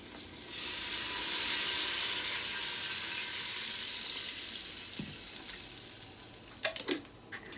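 Homemade beef broth hits a hot pan on a saute setting and gives a broad hiss that swells, then slowly fades, followed by a few clinking knocks near the end.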